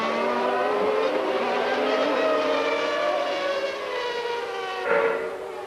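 Formula 1 race cars from the 1992 season scream past under braking for a chicane, a loud continuous high engine whine with shifting pitch and a brief surge near the end.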